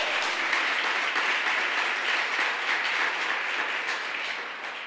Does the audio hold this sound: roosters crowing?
no